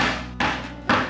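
Garlic cloves are lightly smashed for a braised pork belly dish, with two distinct close thuds about half a second apart and a short ringing tail after each.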